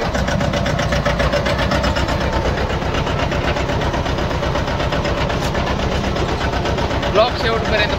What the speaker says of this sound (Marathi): आपलं छोटं ट्रॅक्टर घेऊन.